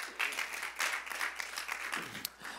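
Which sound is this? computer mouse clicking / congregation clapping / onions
congregation clapping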